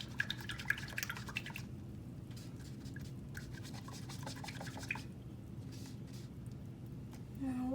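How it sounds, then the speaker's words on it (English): A paintbrush is swished and rinsed in a water jar during oil painting with a limited palette, making soft splashy drips and scraping against the glass over steady low background hum. "I'll rinse up my brush."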